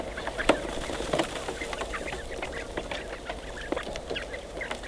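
Small domestic quails in a pen give soft, scattered clucking calls with a few sharper chirps, close by over a steady low background hiss.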